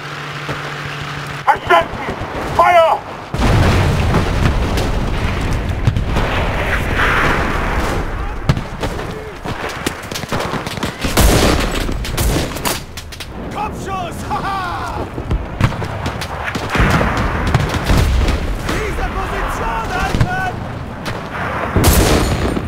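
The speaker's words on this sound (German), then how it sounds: "Ich rufe die Artillerie!" Artillery barrage in the video game Enlisted during the Battle of Normandy: heavy booms and gunfire roll on continuously for over twenty seconds, with a voice talking over the din.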